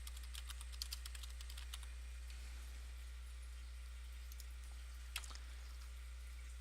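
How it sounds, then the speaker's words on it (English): A few quiet keystrokes tap on a computer keyboard in short irregular bursts, faint against a steady low electrical hum. "type in the member signature and the parent signature"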